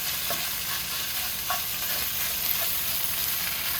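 Beef sizzles steadily in a hot pan as the pieces are turned with a fork, a continuous broadband hiss with a few faint soft clinks and pops, close and alone.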